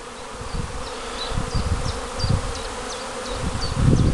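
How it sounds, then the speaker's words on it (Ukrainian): A steady, close buzzing of many bees flying around apiary hives in spring fills the air, with low thumps of wind or movement and repeated chirping bird calls in the background. "бджоли літають"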